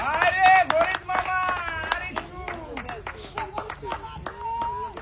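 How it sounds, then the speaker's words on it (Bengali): An audience claps for two contestants in a water challenge game show, scattered claps sounding under a loud host's voice that talks throughout. "আমাদের এই দুজন প্রতিযোগীর জন্য সবাই একটা জোরে তালি হবে।"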